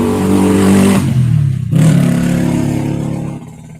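A small 125cc motorbike engine revs hard, drops briefly, then revs again before easing off; loud and close.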